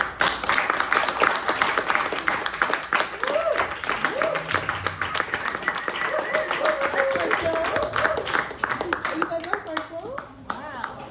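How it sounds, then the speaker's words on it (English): An audience at an artist talk claps steadily for the speaker, a dense round of applause lasting several seconds, with voices talking over it and a voice briefly audible. "How about one last round of applause for Michael?"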